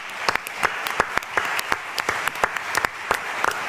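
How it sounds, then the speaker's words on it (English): A small group applauds for a few seconds, with sparse, distinct claps scattered across a steady clatter of hands. "let's give our first round a round of applause."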